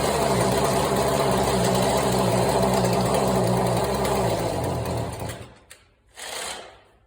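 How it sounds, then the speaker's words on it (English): Husqvarna 128cd string trimmer with a worn engine running rough at full throttle, a loud, buzzing drone that falters after about five seconds, cuts out, then briefly sputters back. "So if your weed whacker does this,"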